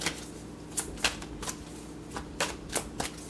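Tarot cards being shuffled by hand during a card reading, giving soft papery riffles and taps at an irregular rhythm, close and moderately quiet with no talking.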